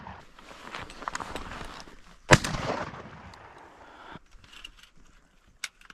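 A shotgun blast rings out once, sharp and close, while duck hunting at a pond, then decays into a brief rumble over quiet outdoor ambience with a faint later pop.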